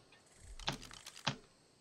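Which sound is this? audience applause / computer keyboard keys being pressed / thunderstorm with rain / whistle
computer keyboard keys being pressed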